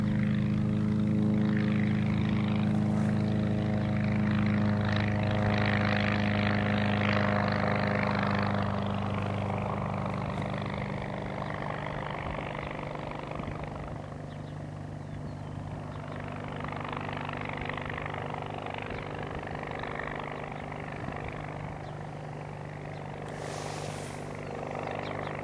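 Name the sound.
ultralight aircraft engine under power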